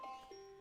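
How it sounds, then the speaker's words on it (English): Short electronic alarm tone from a clock or phone, two brief clean beeps with the second held steady, faint and alone. "That's the alarm I set to get back in time."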